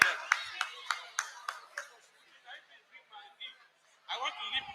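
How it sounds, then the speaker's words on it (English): A small crowd at a fair claps in a short burst of sharp, spaced hand claps that quickly thin out, followed by faint scattered sounds and then a brief renewed patter of clapping or voices. "Please clap for them."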